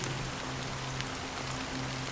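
Steady rain falls in the video game Honkai: Star Rail, an even hiss of drops on a surface that holds level throughout, with a faint low hum underneath and no voices.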